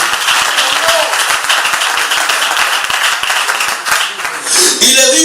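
A church congregation claps in steady rhythmic applause, loud and sustained, with voices rising near the end.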